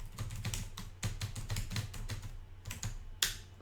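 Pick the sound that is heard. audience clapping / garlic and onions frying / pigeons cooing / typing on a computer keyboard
typing on a computer keyboard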